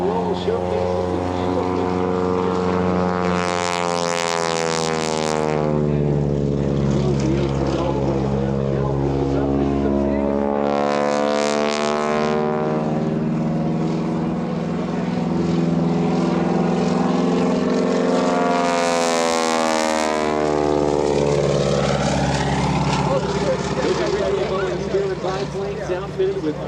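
A Boeing Super Stearman biplane with a radial engine makes repeated loud passes at the EAA AirVenture airshow, its droning roar swelling and fading as it sweeps by, while an announcer talks over it.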